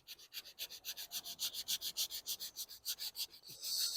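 A cork block sanding wood filler by hand, fast rhythmic back-and-forth rubbing strokes, close and fairly quiet, about five per second, alone without talk.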